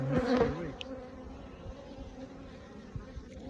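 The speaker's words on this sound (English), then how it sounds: "There's plenty of space in this brood box for these bees." Honey bees hum around a brood box at an apiary, a close, steady drone that rises briefly at the start and then settles into an even buzz, no voices.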